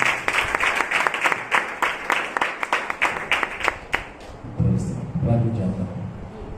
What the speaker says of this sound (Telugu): ఇంకా చప్పట్లు కొట్టి ప్రభుదాసుని ఆహ్వానించారు